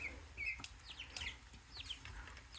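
Chickens cluck and chirp softly in short, scattered calls, faint and fairly distant, with no voices.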